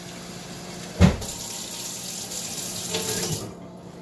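Tap water running from a faucet into a container at home while making sea moss, a steady close hiss and splash with a sharp knock at the start and a brief surge near the end before it cuts off.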